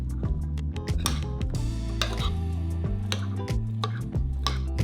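Corn salad with pepper being mixed in a bowl, with repeated clinks and scrapes of a utensil against the bowl in an irregular rhythm, close and fairly clear, over a background music bed and no speech.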